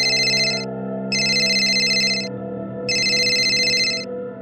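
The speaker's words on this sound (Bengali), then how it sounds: "এমন সময় তার ফোন বেজে উঠল।" A cartoon telephone rings loudly in three bright, repeated bursts separated by short gaps, with a low tonal background underneath and no talking.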